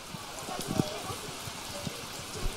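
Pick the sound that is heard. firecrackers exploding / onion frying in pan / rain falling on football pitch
rain falling on football pitch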